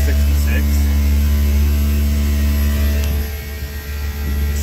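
A Daikin VRV inverter compressor runs alongside the outdoor fan, giving a loud, steady hum with a strong low drone that dips briefly near the end.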